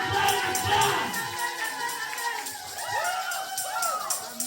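A church congregation shouts and cheers in acclaim of Jesus during a French-language sermon, a lively crowd roar rising and falling, with voices calling out over it.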